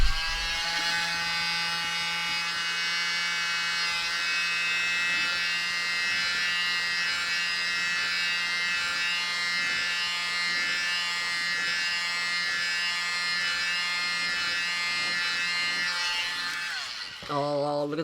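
A hair dryer blowing out paint in fluid art to make blooms, a steady close motor whine that runs continuously until it cuts off near the end, with people talking over it.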